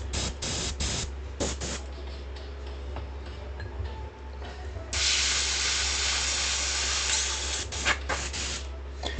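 An airbrush sprays paint onto a resin 3D model in a steady hiss that starts partway through and grows louder and brighter, with ticking clicks and a low hum running underneath.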